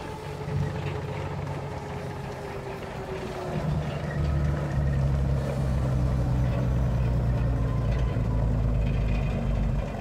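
Centurion driver trainer tank engine rumbling, a deep low drone that grows louder and heavier as the vehicle pulls away, steady and close with no talk.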